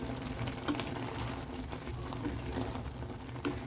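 Egg curry simmers in a covered pan, giving a steady soft bubbling with small irregular pops, faint and close, with no talking.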